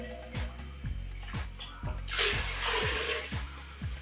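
Water splashes as it is poured from a pot into a pressure cooker holding half a kilo of dal. The pouring swells into a louder gush midway, over a steady run of soft, regular knocks.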